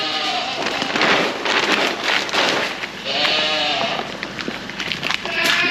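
Several goats bleat over a steady wash of rain or wind noise, their calls rising and falling close by.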